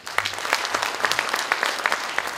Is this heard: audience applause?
yes